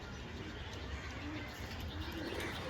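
Faint, low pigeon cooing under a steady wash of background noise, with no clear pauses.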